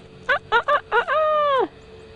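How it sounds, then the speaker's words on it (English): A rooster crows nearby outdoors in Campobello: several short clucking bursts followed by a longer drawn-out call, clear against a quiet background. "You hear the roosters?"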